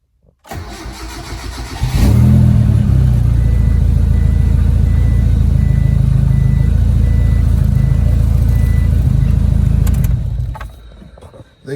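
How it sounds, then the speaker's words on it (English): A Mazda Starquest car engine starts and settles into a steady, loud idle for about eight seconds close by, then cuts off; the car is being repaired for a coolant leak. "car's on."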